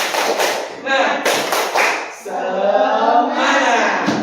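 Indonesian schoolchildren clap out a patterned rhythm chant in class, with loud thudding claps in short runs and energetic group voices chanting along over them.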